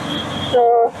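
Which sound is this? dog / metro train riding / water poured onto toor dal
metro train riding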